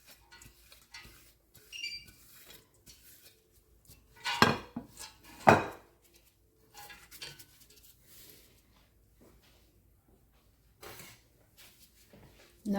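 Ingredients for Senegalese akara fritters being mixed in a large bowl, with scattered clinks and scrapes of utensil against bowl, two louder knocks near the middle, and long quiet gaps between sounds.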